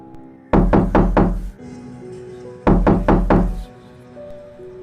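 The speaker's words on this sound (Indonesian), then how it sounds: "bunyi gedoran di pintu depan mengejutkan Gito juga Parni." Loud banging on a front door late at night comes in two bursts of four heavy, evenly spaced knocks, close and forceful, with quiet between them.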